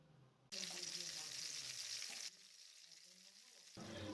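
Chopped tomato, a little nigella seed and turmeric hit hot oil and sizzle in bursts: a loud hiss that flares, softens after about two seconds, then surges again, fairly close and with no talking.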